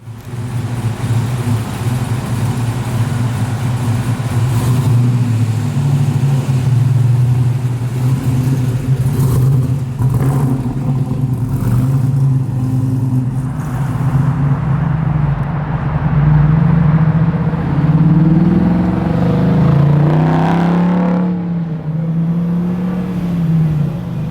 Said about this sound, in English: I love the LS engine. I love the power delivery.